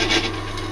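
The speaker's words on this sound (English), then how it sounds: "and there's a 4mm drill going through it quite happily" A small 4mm drill bit cuts through a clamped piece of material for a homemade pulley guard, giving a steady close rasping grind that holds for under a second.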